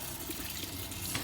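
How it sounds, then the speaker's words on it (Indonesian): Hands are rinsed under running tap water, a brief, steady, close splashing flow with no talk, during a hand-washing routine. "basahi tangan dengan air mengalir."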